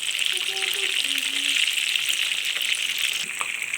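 Köfte meatballs fry in hot oil in a pan, giving a steady, close, loud sizzle with crackling throughout, and a brief clatter near the end as one is turned.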